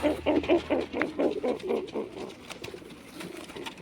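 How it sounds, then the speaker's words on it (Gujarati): Pigeons coo in a coop where birds sit on eggs, giving a close, rhythmic run of soft throaty calls that gradually fade and thin out. "તમે આમાં બધામાં થોડાક કબૂતર બેઠા છે"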